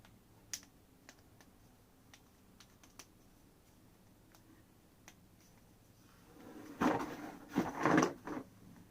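Sparse sharp clicks from a handheld fidget toy, resembling cracking knuckles, spaced irregularly and quiet at first, then a louder cluster of snapping clicks near the end; no talking.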